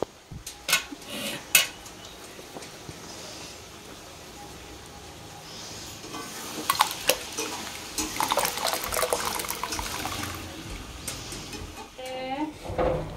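Freshly dug home-grown potatoes rinsed by hand in a kitchen, with water splashing and a steady clatter of pots and utensils in an intermittent rhythm, close by and moderately loud, with people speaking at times.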